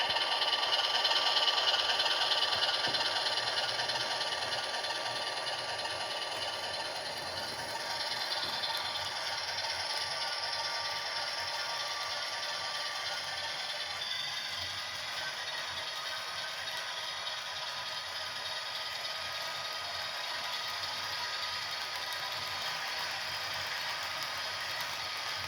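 Small HO scale model Pennsylvania Centipede locomotive, built from AHM parts, creeping along at its slowest speed: a steady, faint electric motor whir with light mechanical rattle, continuous and even, with no voices.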